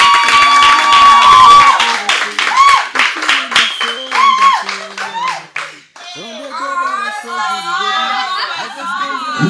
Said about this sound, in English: One of the ones that wants to give us a round of applause.